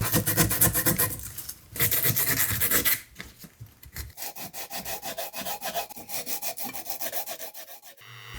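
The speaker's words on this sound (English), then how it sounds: "Now it's onto the sandpaper." Sandpaper rubbing by hand on a 3D-scanned 150cc engine part, a close, loud and steady scraping that comes in long strokes, with a brief pause near the middle before a softer, rhythmic back-and-forth rasp resumes.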